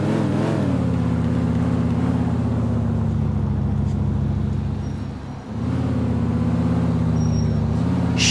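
Steady, close engine drone of a car driving in the video game GTA IV, holding an even pitch, briefly dropping off, then returning as the engine revs back up.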